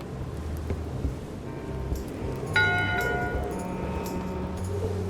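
A single bell tolls in Return to Monkey Island, its bright ringing partials starting about halfway through and fading slowly over a steady rain-like ambient bed of game music and background noise.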